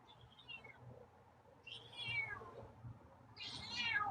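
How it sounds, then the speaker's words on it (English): Two or three drawn-out cat meows, rising then falling, spaced a second or so apart over a low steady background hum. "Wow. Got some meows tonight."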